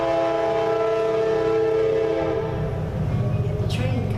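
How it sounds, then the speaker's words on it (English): A train horn sounds a sustained, loud tonal blast as a train passes through Waxhaw, then gives way to the low rumble and clatter of the passing cars. "And we get the train coming through the Waxhaw."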